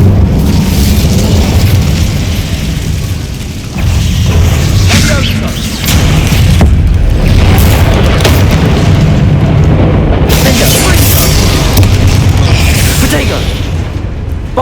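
Bombarda blasting spells explode again and again in the Hogwarts Legacy game, with loud booming blasts and rumbling debris over a dense, continuous wash of game effects.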